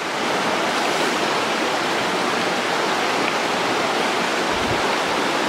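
A creek flows steadily nearby, a dense, even rush of water that runs without a break and drowns out other sound.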